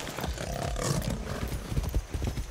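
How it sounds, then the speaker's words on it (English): A horse gallops in Far Cry 6 with rapid, close hoofbeats in an uneven rhythm, joined by a brief breathy snort over the running. "Go, horse."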